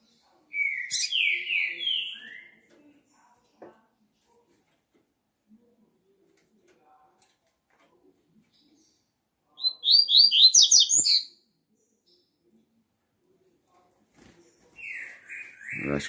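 Caged double-collared seedeater (coleiro paulista) sings three separate bursts of bright, sharp whistled notes, each one to two seconds long, with near silence between them.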